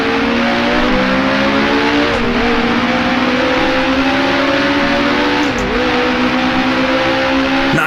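A 1966 Grand Prix race car in the Grand Prix Legends racing game holds a loud, continuous engine drone whose pitch rises and dips with revving, with tire squeal as it slides, no voices.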